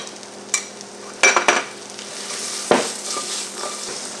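Red onion being added to a hot pan for a Haitian griyo and labapen stew, giving a steady frying sizzle with a few sharp clatters and stirring knocks from utensils against the pan.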